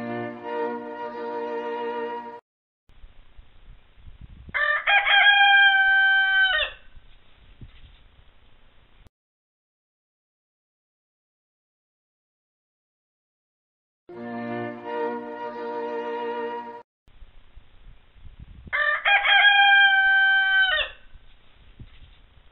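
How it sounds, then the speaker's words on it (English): Two roosters crowing, each a long multi-note crow following the opening phrase of the standard bridal march, heard twice in succession with quiet gaps between, clear and fairly close with no talk. "This first rooster crows like the beginning of the standard bridal march."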